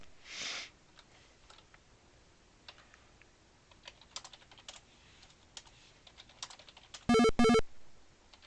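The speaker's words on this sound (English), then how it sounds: "I need the game to allow me to type a command." Computer keyboard typing entering a command in the game Space Quest: The Lost Chapter, with sparse soft key taps that end in two loud, sharp clacks near the end.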